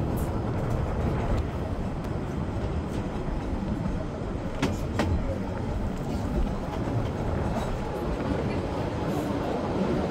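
A Swiss train heading toward Lauterbrunnen in the Jungfrau region rumbles steadily along the rails with a constant low roar and occasional clacks, heard from inside the moving carriage.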